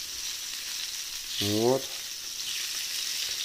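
Steady broadband sizzle of flounder frying in flour in a pan, with a brief spoken word partway through.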